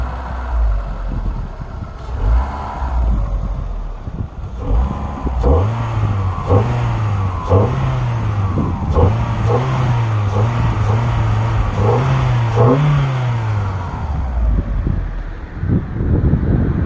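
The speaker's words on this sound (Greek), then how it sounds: "είναι ο ήχος του Fabia με το καινούριο φίλτρο." A red Skoda Fabia engine fitted with a new air filter revs repeatedly, rising and falling through several throttle blips. Steady wind noise runs underneath, and nobody speaks.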